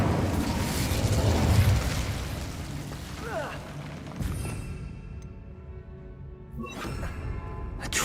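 Incendio fire spell erupting in Hogwarts Legacy, a loud burst of roaring flame and booming blasts in combat, with the rumble fading into ringing tones and a second crackle near the end.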